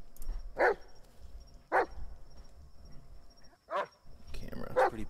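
Dog barking in the horror video game Blair Witch: four sharp single barks spaced a second or more apart, fairly close and clear over a faint ambient hum.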